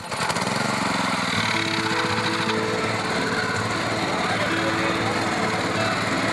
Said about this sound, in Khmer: នៅពេលដែលចាប់ផ្ដើមបញ្ឆេះម៉ាស៊ីន អ្នកបើកបានរុញណូរី